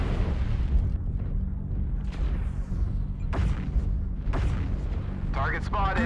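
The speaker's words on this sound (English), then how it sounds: "Artillery strike online." Artillery strike in the Timberwolf mech game, several deep booming impacts and rumbling explosions spread over the clip amid battle noise, with a voice talking in between.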